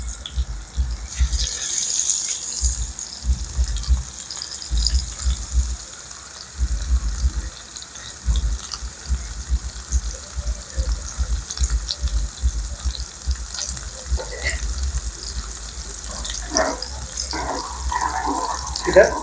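Prawns frying in a hot pan for a leaf-wrapped dish, giving a steady close sizzle and watery crackle with occasional clinks and stirring, no voice over it.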